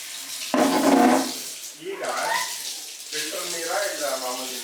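Filtered water pours into a vessel with a brief loud gush at first, followed by voices talking over softer running water.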